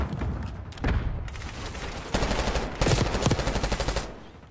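Automatic gunfire from Black Ops 6 on the holiday Nuketown map, loud rapid bursts of machine-gun fire in several volleys, with a dense crackling run near the end.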